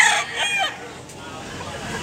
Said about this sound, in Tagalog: Daghang kay manok diri ron dol.